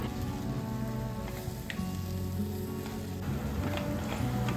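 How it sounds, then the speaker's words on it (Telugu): Gongura leaves frying in hot oil for a spicy Andhra chutney, a close, continuous sizzle and crackle with stirring scrapes and small pops running throughout. "గోంగూర వేయించడానికి నూనె కొంచెం వేడైనాక ఈ గోంగూర అంతా వేసి మంచిగా కలుపుకోవాలి"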